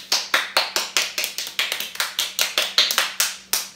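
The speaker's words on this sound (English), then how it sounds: "You gonna clap? You gonna clap for her? Clap!" Hands clap in a quick, slightly uneven series of about twenty sharp claps, close and clear, with no talking.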